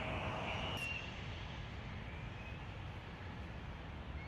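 A steady roar of an airplane coming in to land drones overhead, broad and continuous, holding a fairly even level for several seconds, in Los Angeles.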